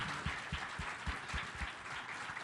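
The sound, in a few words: audience applause for panelists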